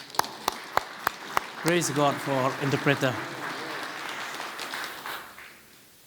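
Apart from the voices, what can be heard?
congregation clapping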